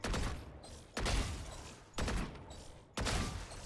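Gunfire from shooting practice bots in the game VALORANT, four sharp bursts roughly a second apart, each decaying quickly, moderately quiet.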